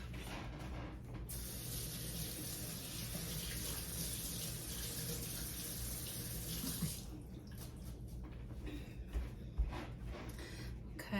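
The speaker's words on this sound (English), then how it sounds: "I'm going to go ahead and rinse my asparagus." Tap water runs steadily into a sink as asparagus is rinsed, a close hissing splash that cuts off after several seconds, leaving softer drips and handling clatter.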